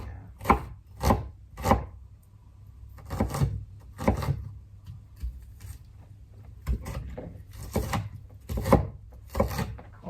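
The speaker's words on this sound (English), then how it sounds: "Red onion again, just chop it really fine." Red onion chopped finely with a knife on a board, close crisp thuds in quick bursts of three or four with short pauses between, no one speaking.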